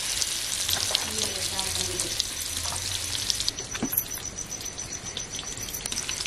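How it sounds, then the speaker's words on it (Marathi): Fish stuffed with kokum frying on a wood-fire chulha, a steady close sizzle with faint crackles running throughout, quieter and more sputtery in the later half. "मच्छी कशी फ्राय होईल मस्त."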